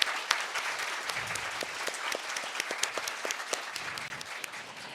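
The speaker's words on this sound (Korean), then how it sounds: "오늘 함께해 주신 세 분 서기관님께도 다시 한번 감사의 큰 박수 부탁드릴게요" An audience of exam students claps steadily for three foreign ministry officials at a special meeting, dense continuous applause filling the room with no talk over it.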